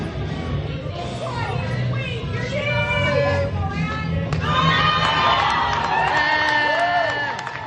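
Crowd at a triathlon race cheering and shouting, with many voices mixed and whistle-like calls rising over a steady crowd roar, fairly loud and continuous.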